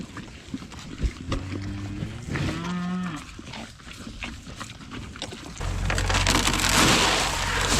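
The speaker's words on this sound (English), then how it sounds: "So checking on this bunch of cows." Cattle low in a pasture during morning chores on a ranch, with a couple of deep, drawn-out moos near by, followed by a steady low engine rumble.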